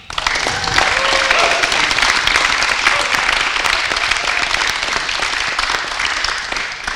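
Audience clapping at a Disability History Month event, a loud, steady, dense round of applause that fills the whole stretch, with faint voices beneath.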